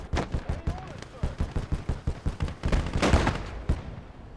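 Rapid steady gunfire rattles in a Gates of Hell: Ostfront battle as a mortar position is shelled, a regular string of loud shots followed by a heavier, denser burst and a fading tail, with a voice talking over it.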